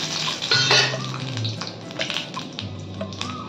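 Dried red chilies and panch phoron spice seeds dropped into hot oil in a kadai, crackling and sizzling close up alongside clinks of a metal pan and utensil, with no talking.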